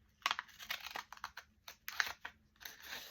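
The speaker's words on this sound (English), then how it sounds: "I'm going to fold it like this to cut out my center" Paper book pages being folded and creased by hand, a series of quiet crinkling and crisp snapping rustles in irregular bursts, close and faint with no talking.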